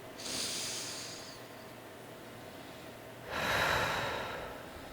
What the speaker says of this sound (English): I'm gonna take a deep breath